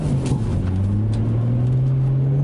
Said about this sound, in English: Exhaust sounds good as well too